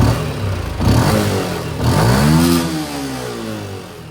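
A Yamaha LC V8 motorcycle engine, fitted with a new ECU, revs up sharply in close bursts, its pitch rising and falling loudly with no talk.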